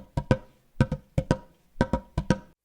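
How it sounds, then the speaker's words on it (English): Knuckles rapping on the top of a bucket in quick pairs of hollow knocks, four double-hits in a steady groove, close and crisp with no voices. "This is me wrapping my knuckles on top of a bucket."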